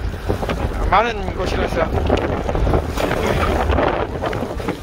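Strong wind and sea waves buffet a boat at a seaweed farm during rainy halfbeak fishing, a steady roaring rush close to the microphone, with someone talking over it throughout.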